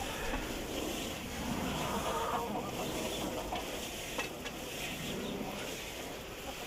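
Water sprays steadily onto dry bedding in a chicken coop compost pile, a continuous soft hiss with faint splashing and no talking.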